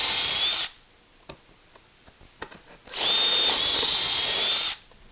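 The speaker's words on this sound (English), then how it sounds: "drill a couple more holes" A power drill bores shelf pin holes in wood through a Kreg shelf pin jig in two loud, high-pitched bursts with quiet clicks and handling noises in between.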